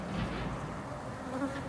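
Honeybees hum in a dense, continuous drone around a nuc frame outdoors, a steady close buzz with no voices.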